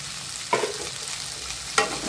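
Chopped okra sautéing with dry spices in a pan makes a soft continuous sizzle, broken by two sharp stirring scrapes, close and without talk.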